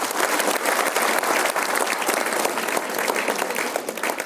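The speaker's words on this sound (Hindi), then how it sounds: "यस यस सर के लिए ताली बजा दीजिए।" Sustained applause from a crowd, steady and fairly loud, with no pause throughout.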